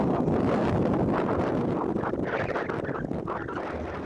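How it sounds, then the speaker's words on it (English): Gusts of outdoor wind buffet the microphone in a steady, loud rumbling roar that eases slightly toward the end, with no voices. "Sorry, it gets windy."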